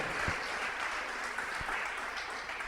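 A church congregation applauds during a sermon with steady, moderately quiet clapping that blends into an even wash, with a few deeper thumps underneath.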